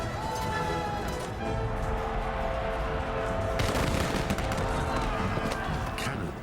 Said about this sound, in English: Cannons and arquebuses, weapons introduced by Jesuit missionaries, played their part.